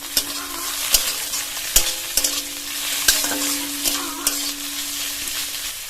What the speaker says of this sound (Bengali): এবার এর মধ্যে চিংড়ি মাছটা দিয়ে দেবো